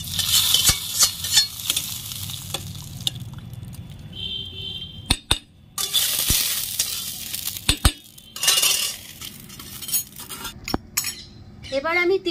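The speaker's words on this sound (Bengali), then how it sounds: "এই মশলাটা আমি জলের মধ্যে মিশিয়ে দিচ্ছি।" A spoon stirs a spice mixture into water while cooking dahi vada, giving repeated scraping and clinking against the pot with some sizzling nearby, in bursts and pauses.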